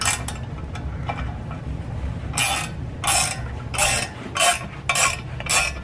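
A tool works the nut on an Arctic Cat Big Fin secondary clutch in a series of rhythmic metallic ratcheting bursts, close and fairly loud, about six clicking runs over a low mechanical background with no talk.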